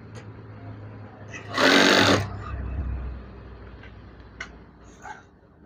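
A sewing machine stitches a fabric curtain divider in one short, loud burst of about half a second, then quieter whirring and a few light clicks follow, close by with no talking.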